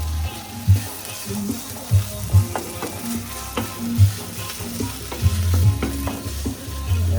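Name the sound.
stirring sardines sizzling in a pan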